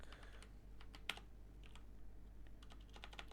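Fingers type a Windows command-line repair instruction on a computer keyboard, a faint, quiet run of scattered clicking keystrokes with one sharper tap near the start.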